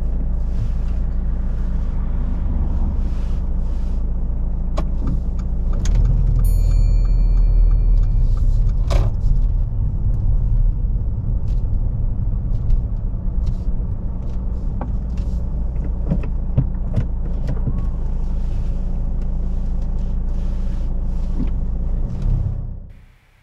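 Car reversing slowly into a parallel parking space on a UK road during a driving test, a low steady engine hum with small clicks and knocks, close and continuous, fading out at the end.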